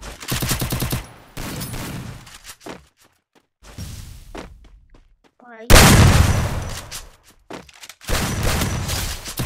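Gunfire in the mobile battle game Free Fire: loud bursts of rapid shots in several volleys, separated by quieter gaps, with a brief whooshing sweep in between.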